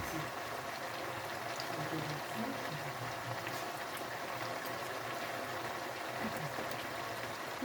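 Water added to a hot cooking pan hisses and bubbles steadily, a faint continuous simmering close by.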